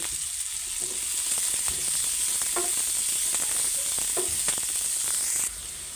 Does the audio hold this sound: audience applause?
no